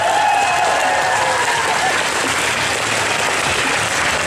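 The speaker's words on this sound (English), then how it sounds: "Give a round of applause for that." A crowd claps loudly and continuously at a live Family Feud-style game show event at a gaming expo, a dense, full roar of hands that stays steady throughout.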